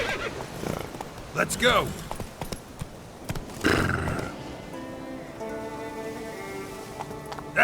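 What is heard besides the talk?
Geralt's horse Roach neighing and trotting, from video game The Witcher 3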